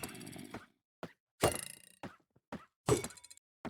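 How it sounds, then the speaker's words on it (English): Minecraft Bedrock tridents thrown against a block, landing as four or five separate hard thunks spaced by short silences, close and fairly crisp, with no voice. "Try and throw the tridents on the lower half of this block."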